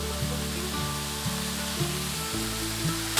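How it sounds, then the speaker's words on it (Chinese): Carrot, jicama, wood ear mushroom and dried tofu stir-fried in a wok for a vegan Hakka dish give a steady, close sizzle, with light rhythmic scrapes and knocks of the spatula tossing the ingredients throughout. "快速的拌炒。"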